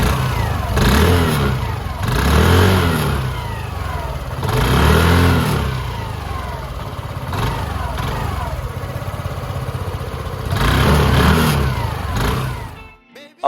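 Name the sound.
110cc scooter engine accelerating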